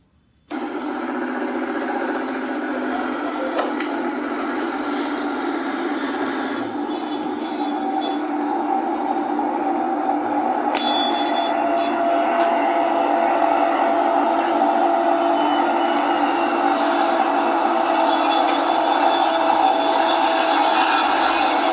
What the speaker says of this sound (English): one extra clip which I have taken for the aircraft when it is landing